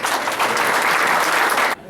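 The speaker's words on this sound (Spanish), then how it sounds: "le concedemos un voto de aplauso" An audience at a formal event gives a short burst of dense, loud applause that cuts off abruptly just before the end.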